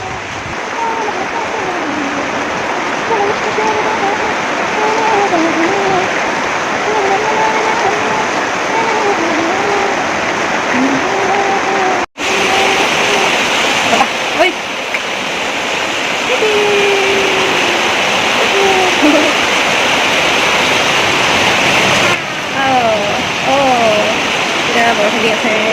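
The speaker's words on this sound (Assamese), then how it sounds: "এতিয়া বৰষুণ দি আছে।" Heavy rain pours down steadily outdoors near a market, a dense continuous hiss holding at the same level throughout, with a voice talking over it.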